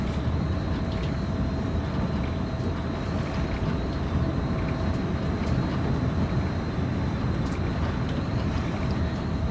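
In Train Sim World, a commuter train on the Peninsula Corridor between San Jose and San Francisco creeps along at throttle 6. It makes a dense, steady rumble with a faint constant whine, and there are no pauses.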